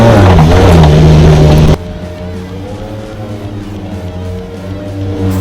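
A Chevrolet ZR2 pickup with Super Springs suspension revving hard under throttle during off-road testing, a loud roaring engine that drops abruptly to a lower steady drone, then swells slightly again.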